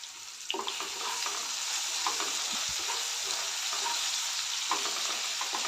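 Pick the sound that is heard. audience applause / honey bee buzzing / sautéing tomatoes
sautéing tomatoes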